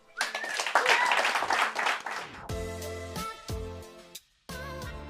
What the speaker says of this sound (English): Let's give a big round of applause to Zach